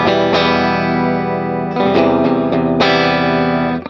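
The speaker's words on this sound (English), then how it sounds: "you get a little bit of overdrive" Electric guitar chords with a light overdriven crunch, struck several times and ringing out with sustain, played alone and fairly close.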